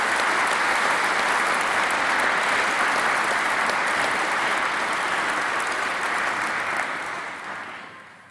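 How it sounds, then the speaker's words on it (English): Audience applause for student musicians at a university graduation congregation for the College of Social Sciences, sustained full clapping from a large hall that stays strong for several seconds, then tapers and fades out near the end. "A round of applause,"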